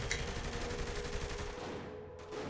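Dense, sustained gunfire from the Saints Row 3 video game, a rapid fusillade of shots running continuously and loudly, tapering slightly near the end.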